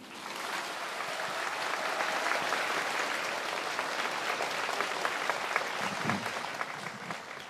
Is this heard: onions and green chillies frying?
no